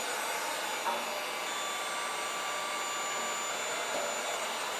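A heat gun blows steadily and evenly while warming a badge on an Indian Scout motorcycle to remove it, making a constant close whoosh with no breaks and no talk.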